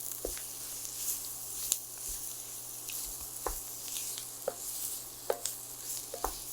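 Garlic sautéing in a dark brown roux for a classic gumbo, a steady close sizzle with soft crackles and a few sharp pops, no talking.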